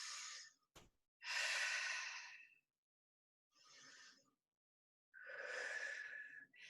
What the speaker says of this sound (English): Take your 2 deep breaths.